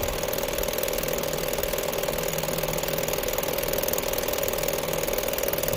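A 2014 Lincoln MKX with the 3.7L engine runs rough and near stalling, a steady close-up mechanical drone with a faint uneven rattle and no talk.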